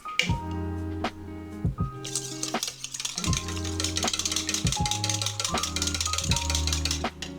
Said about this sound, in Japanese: オリーブオイルを入れて合わせていくっていう方法ですね。 で、こんな感じでまだまだ混ぜていきます。